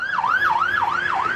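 Ambulance siren wails on a road in South Lebanon during strikes, a rising-and-falling yelp cycling steadily about four times, loud and near, with no talk over it.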